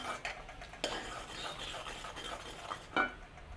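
Corn kernels being stirred with sugar in a pan while making popcorn, a steady scraping and rustling with a few louder clinks of the utensil against the metal.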